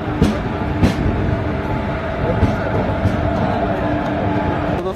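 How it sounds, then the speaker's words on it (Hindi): Rajya Rani SF Express rolling into New Barauni Junction, a steady loud rumble of wheels and carriages with clanks and thumps, a busy station din filling the whole stretch. "पटना से 109 किलोमीटर डिस्टेंस कवर करने वाले अपनी ट्रेन पहुंची अपने third halt new Barauni junction railway station"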